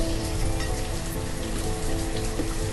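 Steady rain in the Banished video game falls in a dense, continuous patter and hiss on surfaces, close and even throughout with no voices.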